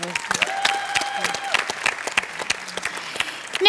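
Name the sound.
audience applause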